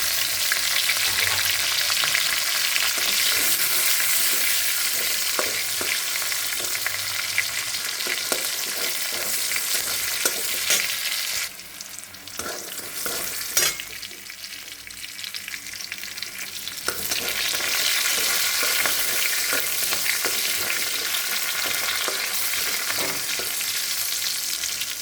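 Whole garam masala spices crackle and sizzle in hot oil for a cauliflower dish, a loud continuous fry with stirring scrapes that eases midway and then returns at full strength.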